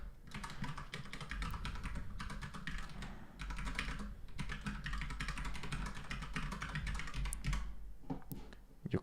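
Steady rapid key clatter from a computer keyboard as an email address is entered, continuous close-up tapping for the full stretch with only brief pauses and no talking.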